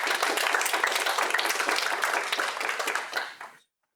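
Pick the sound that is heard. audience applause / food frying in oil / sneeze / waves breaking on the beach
audience applause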